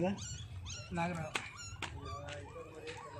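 A puppy whimpers close by in high, wavering whines that repeat through the moment, mixed with people talking nearby.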